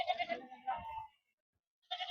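Sheep bleating at a sheep market in Gudur, Andhra Pradesh: a couple of close, fairly faint bleats, a pause of silence, then another bleat begins.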